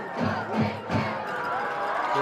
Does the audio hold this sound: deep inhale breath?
no